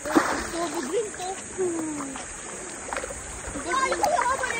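Water splashes and sloshes irregularly as laundry is washed by hand in a river, close and moderately loud, while people chat nearby throughout.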